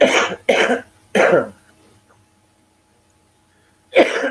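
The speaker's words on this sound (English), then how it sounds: "It's smoker's cough." Three harsh smoker's coughs in quick succession, a short quiet gap, then one more cough, close and loud.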